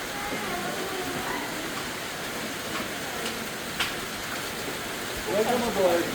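Steady rain hisses over a continuous low rumble, with muffled voices faintly audible beneath it.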